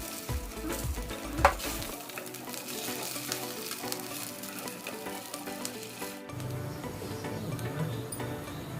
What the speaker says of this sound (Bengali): খুব অল্প পরিমাণ তেল দিয়েই কাবাবটা খুব ভালোভাবে ভেজে নিতে হবে।